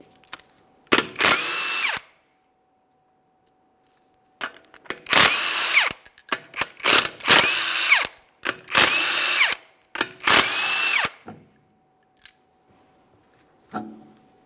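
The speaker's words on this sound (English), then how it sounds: "we're going to remove all 5 of our 21mm lug nuts and then the wheel" A power tool spins off the 21mm lug nuts on the front wheel of a 2008-2017 Mitsubishi Lancer, with five loud, close whirring bursts separated by short pauses and a faint final rattle.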